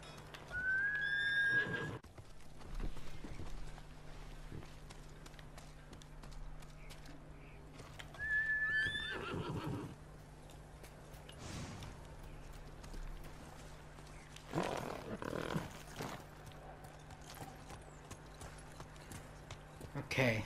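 In the video game Ghost of Tsushima, hooves clip-clop steadily while a horse whinnies twice, high and shrill, over a faint background hum; a voice speaks briefly.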